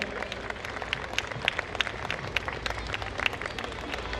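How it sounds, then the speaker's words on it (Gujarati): Audience clapping at a school award ceremony, a steady wash of many hands with sharper individual claps popping through, loud and sustained for the full stretch with no voices over it. "જોરદાર તાળીઓ થવી જોઈએ આ અવોર્ડ જ્યારે અપાઈ રહ્યો હોય ત્યારે"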